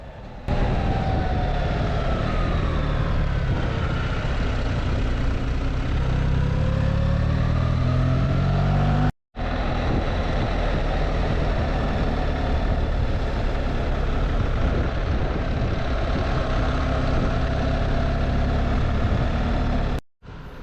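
A BMW R1300GS with the ASA automated shift and no clutch lever rides along, its engine drone and rushing road noise loud and steady for about twenty seconds, cutting out briefly twice.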